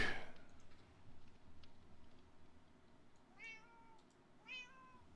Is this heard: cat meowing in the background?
yes